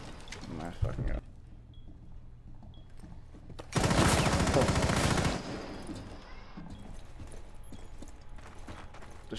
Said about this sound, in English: Just shooting up in this floor so I can hold an angle